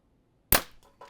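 A single sharp, loud crack of a 2022 Hoyt Twin Turbo compound bow releasing an arrow, followed by brief fainter rattles as the string and limbs settle, heard alone.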